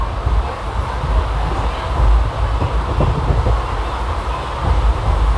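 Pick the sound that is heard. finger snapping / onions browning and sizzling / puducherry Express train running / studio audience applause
puducherry Express train running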